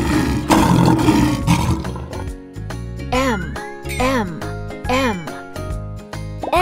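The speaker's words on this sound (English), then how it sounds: "L is for lion." A lion roars loudly at the start, then bright chimes and jingling tones play in a bouncy, repeating pattern over a children's alphabet song.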